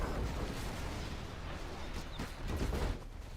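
Nuke cannon artillery fire in the real-time strategy game Generals Zero Hour, a muffled battlefield din of low booming blasts and crackling impacts rising toward the end, heard at modest level.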